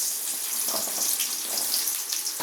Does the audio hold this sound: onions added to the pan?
yes